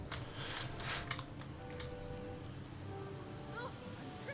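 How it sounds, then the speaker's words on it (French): Rain spell cast in the fantasy role-playing game Divinity: Original Sin, giving a steady patter of falling rain with sharp ticking drops near the start and a few faint tones toward the end. "Est-ce que je peux faire pleuvoir ici?"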